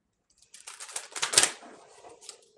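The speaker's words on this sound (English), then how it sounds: "Let's shuffle the deck." A deck of playing cards being shuffled at a card table, a brisk flurry of crisp, rapid flicks that swells and then trails off, close and fairly quiet, with no talking.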